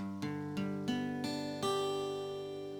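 Single guitar notes of a G bar chord picked one after another, five distinct plucks spaced evenly, each ringing on so they blend into a sustained chord.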